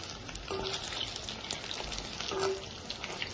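Restaurant-style fish pieces fry in hot oil in a pan, giving a continuous crackling sizzle with scattered pops, close and steady throughout.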